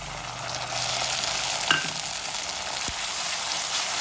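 Onions frying with ginger-garlic paste, green chillies and ground masala in a pan for a Karnataka-style mutton head curry and brain fry: a steady, close broadband sizzle that holds throughout, with a couple of brief stirring clinks and no voices.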